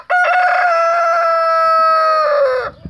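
A Brahma rooster crows once, loud and close, a long sustained cock-a-doodle-doo held for over two seconds before breaking off abruptly.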